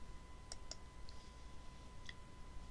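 A few sharp mouse clicks, quiet and close, pick out the run tab in a software testing tool. Two come in quick succession, then a faint one and a later third, over a low steady hum.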